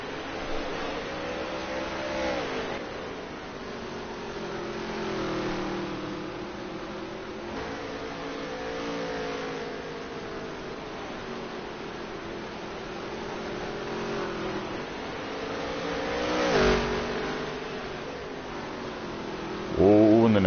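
Dirt track race cars lap during a Dirt Touring Series championship race, their engines a continuous droning, rising-and-falling roar heard at a distance under steady race commentary.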